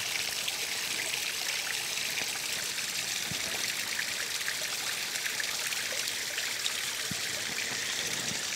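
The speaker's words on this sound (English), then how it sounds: "You can see the water going through there." Dirty pond water pours steadily from the discharge of a pond filter with UV sterilizer, a continuous close splashing rush that holds even in level throughout.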